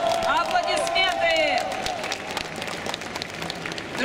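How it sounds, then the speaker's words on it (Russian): Crowd applause at a fan convention awards block, clapping and cheering with voices mixed in, loud at first and settling into lighter scattered claps. "Аплодисменты!"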